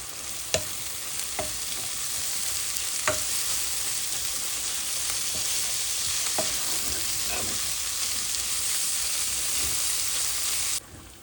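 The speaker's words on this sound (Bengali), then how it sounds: "এই যে মাছটা ভাজা হয়ে গেছে।" Fish fries in a pan of hot oil, a steady crackling sizzle heard up close with a few sharp clicks of a utensil scraping and stirring, and no talking.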